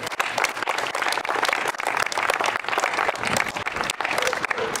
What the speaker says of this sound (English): But another round of applause for their work.